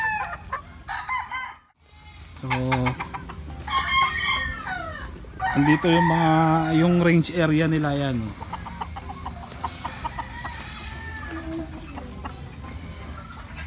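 Chickens on a game farm range area in Montalban, Rizal, including white hens, clucking and crowing loudly nearby, with a prominent long rooster crow in the middle, while someone talks over them.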